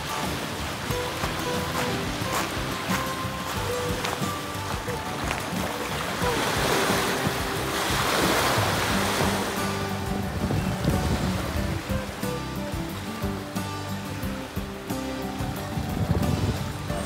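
Waves wash steadily onto a beach in Kelowna, British Columbia, a broad continuous surf roar with swells of louder wash, mixed with wind buffeting the microphone.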